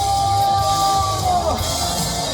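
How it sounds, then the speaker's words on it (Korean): A crowd at an outdoor charity concert roars and shouts together in a steady, dense mass of voices, loud and sustained throughout. "다시 한번 소리 함성"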